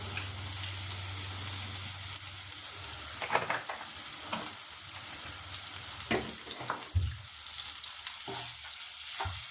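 Fish curry base frying in a little oil, stirred in a pan: steady close sizzle with scattered scraping clinks of a spatula, no talk.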